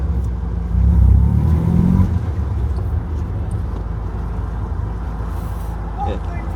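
A Mini Shorty with a newly fabricated exhaust drives on a road test, its engine droning steadily with a louder surge early on, while voices sound faintly inside the car.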